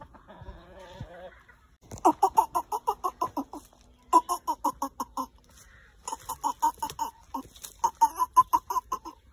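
Hens cluck close by in quick rhythmic runs of repeated clucks, each burst separated by short pauses, with no talking.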